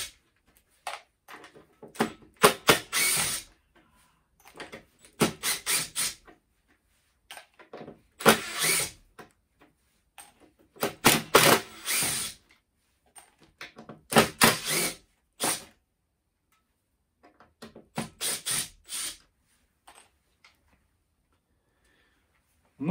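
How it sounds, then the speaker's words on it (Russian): A Makita DTD153 impact driver driving self-tapping screws, heard up close as a series of short, loud rattling bursts of hammering, each about a second long and separated by quiet pauses. "давайте я подкручиваю сейчас саморезы"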